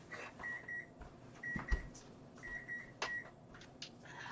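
An appliance beeper sounds in a repeated pattern of short high beeps, pairs of tones recurring about once a second, faint against soft room noise and a few light knocks.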